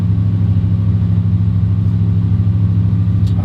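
A vehicle engine idles at a steady, raised rumble, held revved up while being maneuvered in an orchard; the low drone continues without a break and is loud and close, with no voices.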